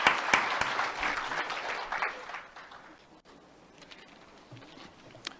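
Applause at a hearing, strongest at the start, then thinning into scattered claps that fade to quiet room noise, fairly faint.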